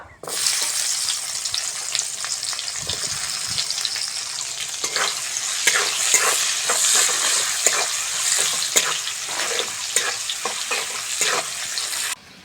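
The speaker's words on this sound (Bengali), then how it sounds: "পেঁয়াজ ভালো করে ভেজে নিয়েছি" Sliced onion and dried red chillies fry in oil in a pan with a bright, steady sizzle. A spoon scrapes and stirs in repeated strokes, close and fairly loud throughout.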